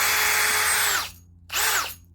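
Two short bursts of a power drill with a brand new bit boring into hardwood, the first longer, with a brief pause between them.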